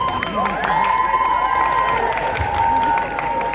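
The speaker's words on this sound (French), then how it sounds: "Applaudissez-les bien fort à eux." Audience at a cosplay contest and parade during the JAPANANTES convention cheers and applauds, a dense roar of crowd noise with shouts and long whistle-like tones sustained throughout.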